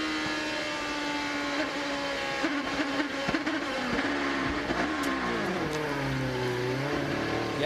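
Danica Patrick's race car powers up out of a corner, its engine note rising and sweeping in pitch over several seconds, loud and continuous, with crowd or track noise beneath.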